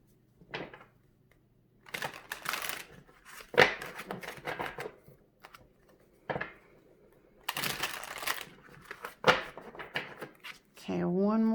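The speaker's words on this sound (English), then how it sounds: "Okay, one more shuffle." Tarot cards are shuffled by hand in short, crisp riffling bursts separated by pauses, close and fairly loud, with a voice briefly heard at the very end.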